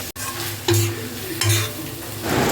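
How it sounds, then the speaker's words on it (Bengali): Chicken pieces sauté in a pan with spices and a splash of chicken stock, sizzling loudly in bursts as they are stirred, with a spoon scraping and a brief clink at the start. "আবারও কিছুটা চিকেন স্টক দিয়ে মাংসগুলো মশলার সাথে ভালো করে কষিয়ে নেব।"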